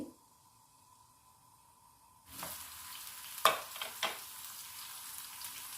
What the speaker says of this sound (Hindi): ऑयल गर्म हो गया है तो हम एक प्याज डाल देंगे।